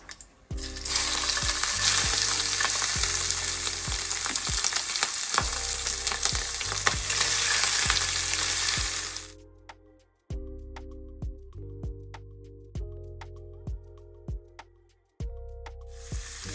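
Onion and shrimp frying in canola oil, a loud dense sizzle that cuts off midway, leaving quieter gaps with intermittent stirring clicks and a low background hum, heard up close without speech.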